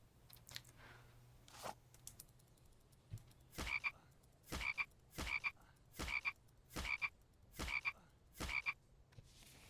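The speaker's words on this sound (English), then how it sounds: "That was a resilient frog." A frog croaks in The Infected survival video game: about seven loud, evenly spaced croaks follow a few fainter sounds at the start.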